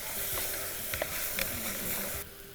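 Tomatoes and green chillies frying in a pan are stirred, giving a steady loud sizzle with scraping strokes throughout.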